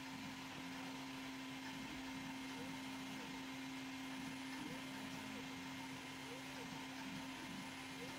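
A micro RC crawler's small electric motor, run from a small Chinese ESC on a 2S battery, gives a steady, fairly faint whirring whine with an even pitch that holds for the whole stretch, without pauses.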